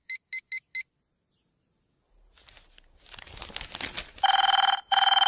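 A telephone in a film comedy scene rings: four quick electronic beeps, a pause, then rustling and crinkling before two long, loud, shrill ring bursts close up.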